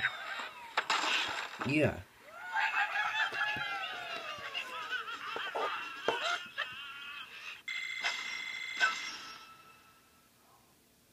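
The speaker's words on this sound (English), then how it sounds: "pull back the slingshot. And, sling the bird." In the Angry Birds video game, a bird is launched from a slingshot: a creaking stretch, then a rising squawk and whooshing cartoon effects over game music, with a brief voice heard near the start.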